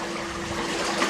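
A swimmer splashes steadily in an Endless Pool against the current, a dense, continuous wash of churning water heard close, with a faint hum underneath.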